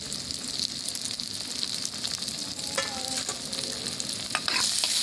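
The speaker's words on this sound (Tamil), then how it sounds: "இப்போ தக்காளி சேர்த்துக்கலாம்." Chopped tomato frying and being stirred in a clay pot, a steady close sizzle with scraping spoon strokes running throughout.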